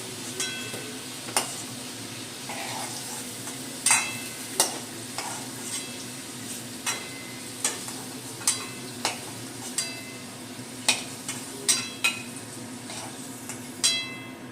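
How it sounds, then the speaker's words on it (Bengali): Potatoes frying in hot oil for egg curry, a steady close sizzle running throughout, broken by a spatula's frequent sharp clinks and scrapes against the pan. "আলুটা আমি 5 মিনিট ভেজে নেব।"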